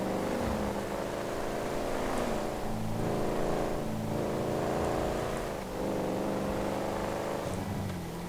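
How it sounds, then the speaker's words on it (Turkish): A 1969 Ford Mustang Boss 302 engine in GTA 5 drones and revs steadily, pitch rising and falling through gear shifts, with no talking over it. "arabanın kalkışı çok güzel. Sesi ayrı bir güzel."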